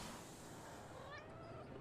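A Loth-cat from Star Wars: Ahsoka meows in a brief, faint, rising cry over a steady background hum.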